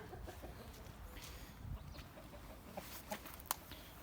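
Bielefelder hens cluck softly in an outdoor yard, scattered calls over a low background murmur, with one sharper squawk near the end.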